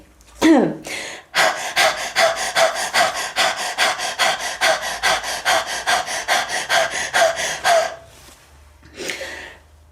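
Rapid, rhythmic panting breaths imitating a dog, a steady run of quick puffs lasting several seconds, followed by a couple of separate breaths near the end.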